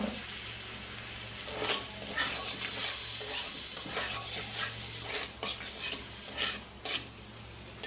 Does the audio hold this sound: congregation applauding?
no